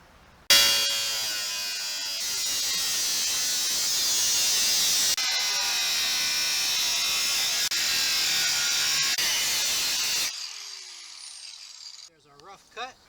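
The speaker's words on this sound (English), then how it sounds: "We're going to use an angle grinder to cut it out." An angle grinder cuts a piece out of a push mower's metal body, a loud, sustained, high-pitched whine that runs steadily for about ten seconds before spinning down and stopping.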